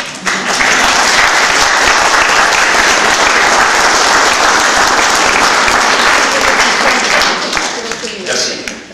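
Loud, dense applause from the audience at a general assembly, rising quickly and holding steady for several seconds before tapering off as a voice starts to speak.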